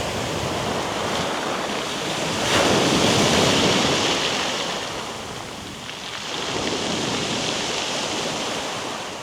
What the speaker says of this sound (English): listening to these waves, listening to the sound of those pebbles, have the water recede over them